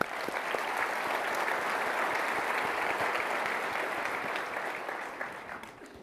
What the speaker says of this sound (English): let's give Kyocera a round of applause